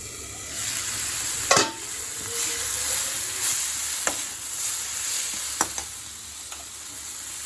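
Coriander and kaara chutney ingredients sautéing on full flame, a steady close sizzle and hiss with a few sharp scrapes and clinks of the stirring spoon against the pan.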